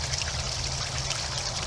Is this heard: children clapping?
no